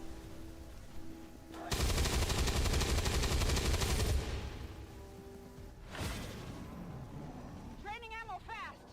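Soldiers open fire in XCOM 2, a loud sustained burst of rapid automatic gunfire lasting a couple of seconds, followed by a shorter blast and whooshing effects.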